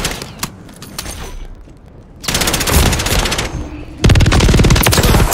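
Bursts of automatic gunfire from the video game Warzone, with a scattered volley early on, then loud sustained firing that grows louder near the end, with no talking.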